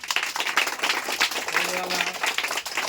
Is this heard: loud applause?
yes